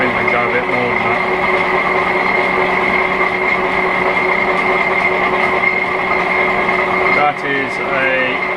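A vintage Hendey lathe takes a half-inch cut with a high-speed steel tool, producing a loud, steady mechanical hum with a sustained whining tone throughout and a brief change in the sound near the end.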